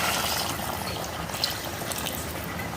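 Water poured into a pot of spicy mutton curry, a steady splashing pour that runs close and continuous from start to finish with no voices.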